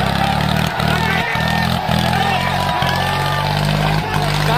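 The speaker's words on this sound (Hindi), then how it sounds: "ट्रैक्टर तगड़ा चल रहा है" Eicher 485 and Swaraj 855 tractors straining against each other in a tug-of-war contest, a loud, continuous low diesel drone with steady harmonics and small dips in pitch, while a crowd and an excited voice shout over it.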